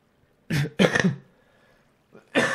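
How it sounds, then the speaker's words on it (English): A person gives a few short, harsh coughs and throat clears in quick bursts with a longer gap before the last one, close and fairly quiet, with no talk. "I have a bad cough"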